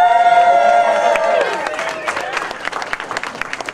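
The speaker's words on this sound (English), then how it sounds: "round of applause so far for all the people I've heralded" An audience at the Ignite Baltimore talk event breaks into applause and some cheering, loud and close, over a ringing sustained tone at the start, with the crowd clapping continuing steadily to the end.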